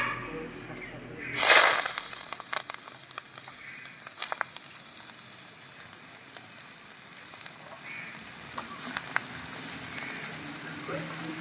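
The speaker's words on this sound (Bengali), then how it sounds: "এবার তেলটা দিয়ে খারকোল পাতাগুলো ভেজে নেব" Kharkol (arum) leaves hit hot oil with a sudden loud sizzle, then settle into a steady close frying hiss with small crackles for the rest of the clip.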